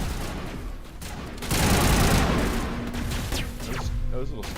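Sustained, dense weapon fire from the Mass Effect video game forms a continuous rumbling barrage that swells midway, while someone talks over it.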